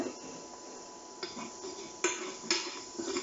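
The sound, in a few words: shallots being added to a pan for beef stroganoff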